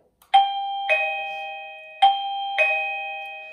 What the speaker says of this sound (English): That's a standard ding-dong sound available pre-programmed to each zone.